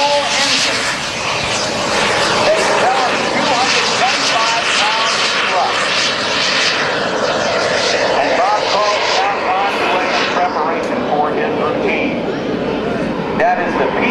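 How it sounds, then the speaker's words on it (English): A jet sailplane with a PBS TJ100 engine takes off at the 2010 NAS Oceana airshow, a steady loud jet roar with a broad hiss running throughout, heard outdoors with an announcer talking over it. "That is the PBS TJ100 engine. This is the most powerful jet sailplane in the world."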